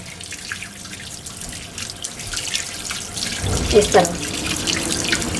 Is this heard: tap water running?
yes